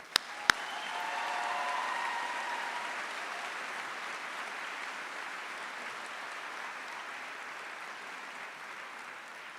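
Graduates and guests at a high school commencement ceremony applaud after a list of student names is read, a broad steady wash of clapping that swells early and then holds, with two sharp clicks at the very start.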